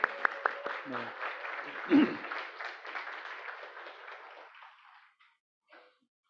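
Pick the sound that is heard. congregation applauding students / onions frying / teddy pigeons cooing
congregation applauding students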